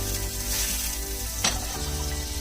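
About two tablespoons of butter sizzle in a frying pan over medium-low heat for creamed spinach. A soft even crackle sits under a steady low hum, with one brief swishing scrape near the middle.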